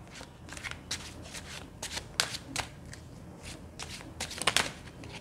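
Tarot cards riffle and slap close by in a quiet room, with a series of quick papery bursts and soft taps as the deck is shuffled and laid out, and no one speaking.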